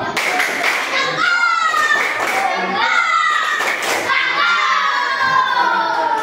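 Classroom of children doing a clapping game, with lively clapping and chanting voices overlapping continuously throughout, close and loud, children's speech and shouts mixed in.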